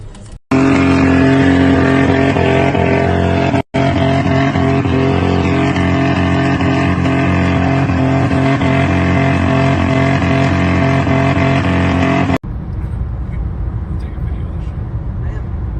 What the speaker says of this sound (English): esse bicho é doido, esse motor